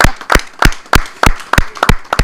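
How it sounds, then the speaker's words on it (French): Slow, steady hand claps, about eight sharp, loud claps in an even rhythm. "Applaudissez pour elle."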